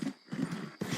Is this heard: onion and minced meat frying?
no